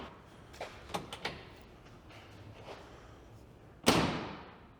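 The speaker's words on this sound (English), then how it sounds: "We're gonna make sure that our door opens and closes properly." A SuperATV HDPE half door on a Can-Am Defender is worked open, giving a few light clicks and knocks, then swung shut with a single loud, close slam that rings briefly and fades.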